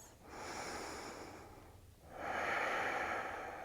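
Deep yoga breaths during a morning vinyasa flow: a long airy inhale, a brief pause, then a fuller, louder exhale, close and breathy with no talk.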